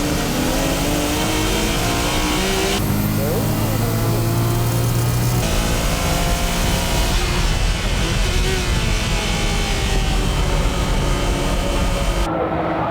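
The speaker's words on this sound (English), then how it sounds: "Kobayashi in the MCR GTR and Orito in the Mines GTR battling it out for top position." Nissan GT-R race cars, an MCR GT-R and a Mines GT-R, battle for the lead on a circuit, their engines droning loudly and continuously with shifting revs throughout.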